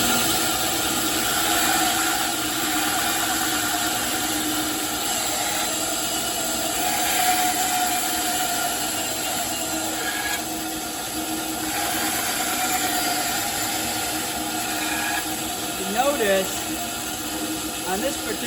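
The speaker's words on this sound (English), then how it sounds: "So let's go ahead and turn this here on. And I'll use this little bandsaw down here." A small woodworking band saw cutting tool box sides runs with a continuous humming whine and steady mechanical drone, unbroken for the whole stretch, while someone talks over it.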